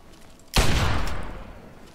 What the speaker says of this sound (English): I hear a sniper rifle.